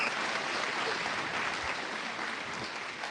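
An audience at the Jackson County Fair coronation applauds steadily, a dense, continuous clapping that holds at an even level throughout.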